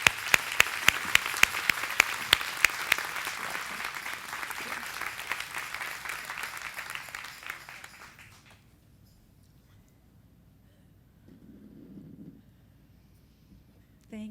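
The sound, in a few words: audience applause welcoming a speaker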